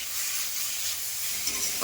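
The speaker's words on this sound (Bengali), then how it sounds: "আবারও কিছুক্ষণ ভালো করে ভেজে নেব" Red amaranth greens fry in a pan with a steady, close, high-pitched sizzling hiss, like steam escaping, and a faint stirring scrape near the end.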